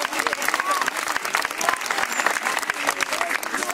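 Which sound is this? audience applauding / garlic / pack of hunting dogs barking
audience applauding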